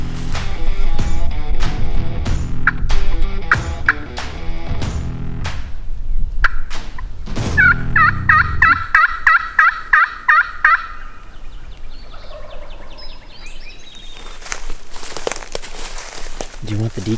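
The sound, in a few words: wild turkey gobbling calls during turkey hunt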